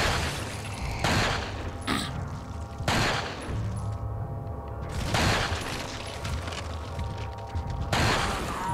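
Gunfire in Resident Evil 4, several sharp loud shots spaced a second or two apart, each with a booming tail, over a low game background.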